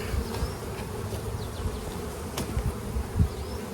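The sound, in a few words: honey bees buzzing at an opened beehive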